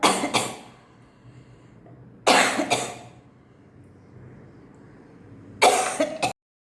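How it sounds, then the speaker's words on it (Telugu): Harsh coughs and throat clearing during neti nasal cleaning, three separate bursts spaced a few seconds apart, loud and close with quiet breathing between them. "చిన్న దగ్గు లాంటివి కూడా రావడం కామన్ అనమాట"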